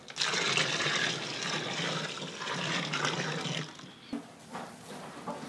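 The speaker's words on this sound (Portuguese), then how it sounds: "Adicione mais 2 litros de água morna." Warm water poured into a mix while making homemade fabric softener: a loud, steady broadband rush of liquid for about four seconds, then it cuts off and leaves a few faint splashes and trickles.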